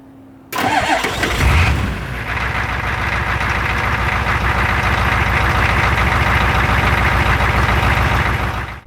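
A Ford 6.9 IDI diesel truck engine, cold after sitting a couple of days at 12 degrees Celsius, cranks briefly, then catches and settles into a loud, steady, clattering idle that runs on without a break.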